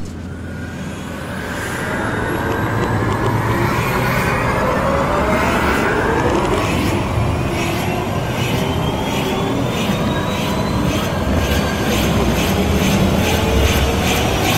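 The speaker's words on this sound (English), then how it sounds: "when we start the engine, please stay calm" A sci-fi vehicle engine powered by a Tesla coil starts up, building from a low rumble into a loud, steady jet-like roar with rising whines that hold for the full span, with no voices.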